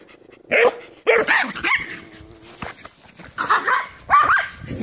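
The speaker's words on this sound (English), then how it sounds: "You don't even know what you're barking at" A puppy barks in sharp, close, high-pitched yaps, a few separate bursts with a brief whine between them, and no talking over the barks.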